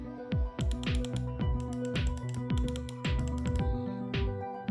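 A run of sharp, close clicks from the side buttons of a Razer Viper Mini computer mouse, several in quick bursts with short pauses, over a steady low hum.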